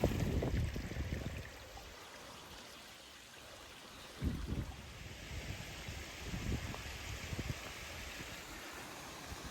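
Unexpected waterfalls on Black Hill give a steady, moderately loud rush of falling water that swells briefly a few times, with no voices.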